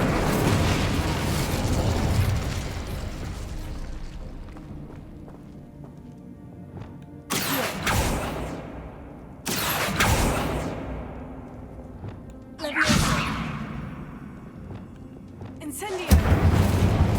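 Incendio fire spells cast in Hogwarts Legacy, heard as four loud bursts with whooshing fiery tails, spaced a few seconds apart over a low, rumbling game ambience.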